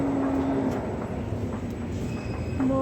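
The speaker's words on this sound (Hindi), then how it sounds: "ये है डबरी मोड़ मेट्रो स्टेशन।" Metro train at Dabri Mor station, a continuous rumbling roar of the train with a steady wheel hum, brief high squeals and faint clatter, nearby and moderately loud, with no talking.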